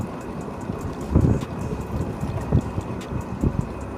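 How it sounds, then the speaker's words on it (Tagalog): Countryside wind in the Bicol province of the Philippines, a low rushing blow with gusty swells and buffeting against the microphone, steady and moderately loud with no voices. "Ayan, ang hanging probinsya."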